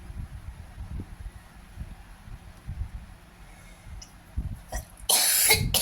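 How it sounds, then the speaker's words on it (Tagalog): A person coughs several times, fairly faint and muffled, with soft low bursts spaced unevenly over quiet background noise. A sudden loud hiss of noise cuts in at the very end. "Grabe yung ubo ko."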